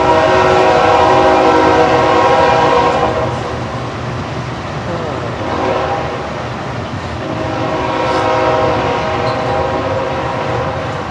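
A Union Pacific and Norfolk Southern freight train rolls past with steady rumbling and clacking, its loud multi-tone horn blaring at the start and again near the end.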